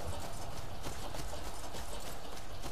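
Horse hooves clip-clop in the Skyrim video game, a quick soft run of regular hoofbeats, faint and steady under a background wash of game ambience.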